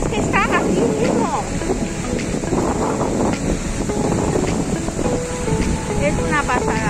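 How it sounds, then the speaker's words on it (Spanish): Rushing water and waves of the flooded Ebro river churning close by, a steady loud broadband roar with wind buffeting the microphone throughout, with some faint voices in the mix. "mirad ahí también qué olas hace el agua"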